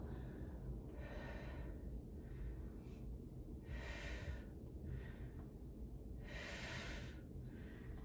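Heavy breaths puff in and out during a resistance band workout, several exhalations in an uneven rhythm over a steady low hum, close and moderately loud, with no talking.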